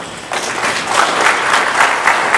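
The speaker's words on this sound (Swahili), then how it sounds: "Simameni tuwapige makofi." An audience at a government finance meeting breaks into loud sustained applause that swells after a quiet start and keeps up a dense patter of many hands.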